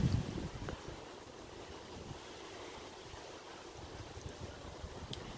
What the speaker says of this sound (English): It's really windy out here in Brockville today.